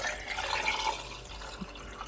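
Cucumber, lime and ginger juice is poured into a glass, a short steady liquid splash and trickle, close and fairly quiet.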